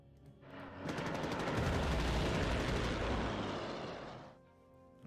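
A sustained burst of rapid automatic gunfire in the video game Panzer Corps Gold, loud and continuous for about three seconds, then cutting off.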